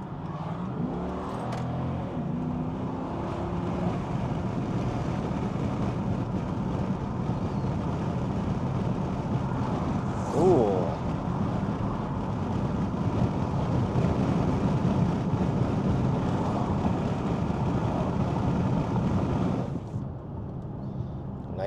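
Steady interior road and engine drone from a Chrysler 300 on the move, a continuous low rumble with tire noise that holds level for most of the ride, then thins slightly near the end.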